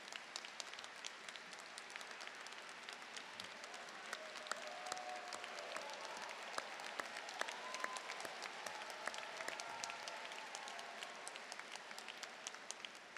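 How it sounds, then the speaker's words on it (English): Graduation crowd at an engineering college commencement claps for standing honor students, a long, even wash of distant applause in a large hall, with faint sustained tones beneath it. "Will all of our honor students please rise to receive our applause?"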